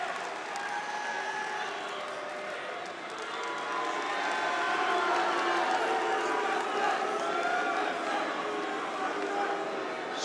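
A large arena crowd at the CS:GO ELEAGUE Major in Boston cheers in a steady, swelling roar during an SK versus Cloud9 semifinal on de_inferno, with a commentator talking over it.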